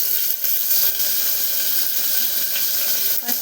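Cumin and mustard seeds hit hot oil with a steady, bright hiss and sizzle, with faint pops and crackles here and there.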